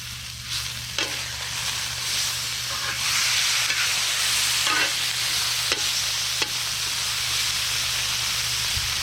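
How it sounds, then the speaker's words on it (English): Pork tenderloin sizzles and hisses steadily in a hot pan over an outdoor cooking fire, a continuous frying crackle with a few sharp clicks as the meat is turned. "we are going to flip this pork"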